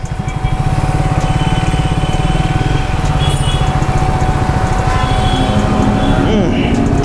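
Triumph Speed 400 motorcycle engine idling up close, a steady loud rhythmic thrum with a fast even pulse running throughout, light talk faintly under it.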